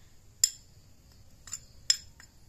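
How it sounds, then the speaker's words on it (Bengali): A utensil clinks sharply against a bowl while dry ingredients are mixed without water for a homemade rat-killing remedy: four quick, bright taps, two stronger ones, over near silence. "এগুলো আমি একসঙ্গে মিশিয়ে নেব খুব ভালো করে।"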